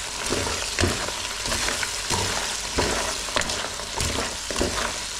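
Crispy coated tofu being stirred into a sweet and sour sauce in a pan, a loud continuous sizzle with repeated scraping spatula strokes at an irregular pace, close up and without talk.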